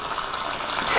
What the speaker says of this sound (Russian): даже готовы показать мастер-класс, как правильно мыть руки